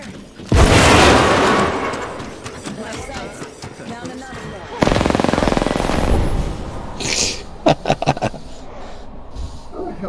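Spitfire gunfire in a video game, with long roaring bursts of rapid automatic fire and booming blasts followed by scattered sharp shots, loud and close, while players talk over it.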